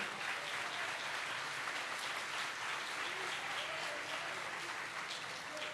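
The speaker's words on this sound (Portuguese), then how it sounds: "Pode aplaudir ao Senhor." A church congregation at an anniversary service applauds, a continuous wash of clapping heard at a modest level from across the room, with faint voices mixed underneath.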